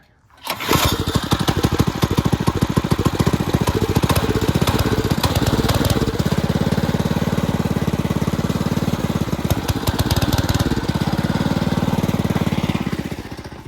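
A go-kart engine with a faulty carburetor is pulled to start, catches, and runs loudly and steadily at close range with a rough, buzzing drone that rises slightly partway through, with no talking.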